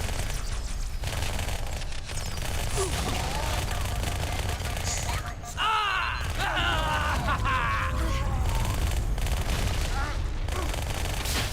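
A plasma grenade goes off with an EMP effect in the Halo 2 video game, amid a near, steady barrage of gunfire, with a burst of warbling, sweeping electronic tones following the blast.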